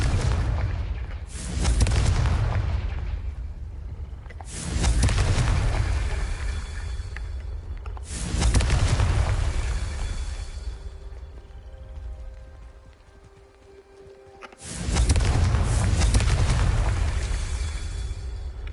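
Four loud, booming spell blasts in Hogwarts Legacy on PS5, each a heavy explosion with a long rumbling tail, spaced a few seconds apart with a quieter lull before the last one.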